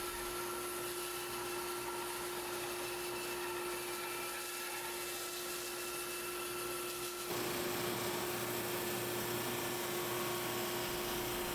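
A power saw resaws hard maple strips for a cutting board, giving a loud, steady whining drone that runs the whole time and shifts to a harsher, more intense tone about two-thirds of the way through.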